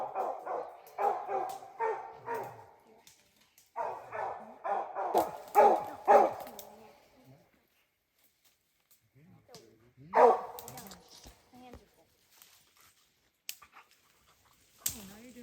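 While a wounded bear is tracked after dark, dogs bark and yip in rapid, uneven bursts at close to moderate range, broken by quiet gaps, with a person talking among the barks.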